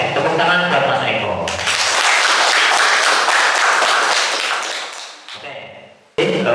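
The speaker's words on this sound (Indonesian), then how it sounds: "tepuk tangan buat Mas Eko" Brief burst of classroom clapping for a student in an automotive engineering teacher-training session, rising dense and fairly close after a spoken line, lasting a few seconds, then tapering off as a voice resumes.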